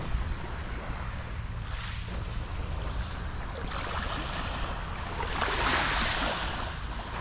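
Winter sea waves washing onto the shore, a continuous broad surf roar with slow swells and wind buffeting the microphone, close and steady throughout with no voices.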